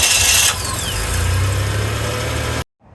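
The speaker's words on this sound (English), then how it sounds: "Awesome, so it seemed to start up." A 1996-2002 Toyota 4Runner's 3.4L V6 cranks and catches right after a starter replacement, a loud close engine roar with starter whine settling into a steady rumbling idle before cutting off abruptly near the end.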